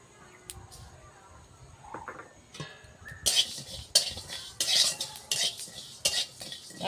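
Cumin and fennel seeds frying together in a pan for a jujube pickle, with quiet scattered clinks at first, then bursts of loud spoon scraping and stirring close up, punctuated by short pauses.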